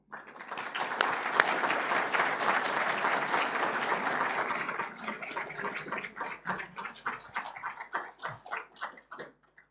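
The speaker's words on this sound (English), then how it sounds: "this deserves a big round of applause for the local organizers" Audience applause at the opening of the STE 2025 gathering, a dense steady clapping from a large crowd that thins into scattered individual claps toward the end.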